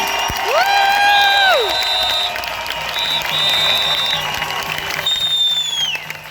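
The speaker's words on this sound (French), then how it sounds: "J'aimerais ça qu'on commence avec une belle main d'applaudissements pour souligner notre courage d'être ici aujourd'hui." Crowd at a street demonstration for rights and freedoms in Montréal claps and cheers, a dense wash of applause and shouting that stays loud, with whistles or sirens sliding above it.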